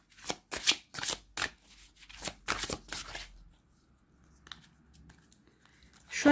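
Tarot cards being shuffled by hand in a series of quick riffling bursts close by, then a quieter pause with faint handling before another burst at the end.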